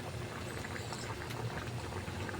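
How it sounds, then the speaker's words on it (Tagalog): Tilapia paksiw stewing in a pan, a continuous soft bubbling and simmering boil with faint crackles throughout, quiet and steady with no talking. "Ayan, kumukulo na mga kalakwatsero."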